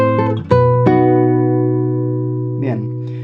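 Classical guitar playing a phrase of a tango, a few plucked bass and treble notes and then a long sustained chord that fades, with a faint sliding touch near the end, close and unaccompanied.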